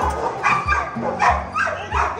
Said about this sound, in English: That's a Rottweiler.